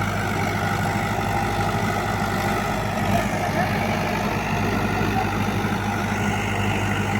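Tractor running a rotavator through farm soil while mustard is being sown, giving a steady, loud engine drone with continuous churning noise and no clear breaks.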